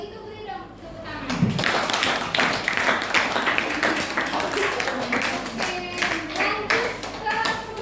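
A classroom group of students claps for a team during a cooperative jigsaw lesson: sharp, uneven hand claps repeat for several seconds, mixed with chatter and voices close by.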